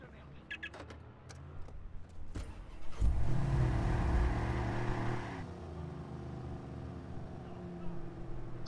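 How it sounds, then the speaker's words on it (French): A Chevrolet Camaro in the video game Watch Dogs starts up and its engine revs into a loud, sustained roar that holds for a few seconds before dropping back to a low idle, with a voice speaking briefly. "Ça c'est de la bagnole. Chevrolet Camaro."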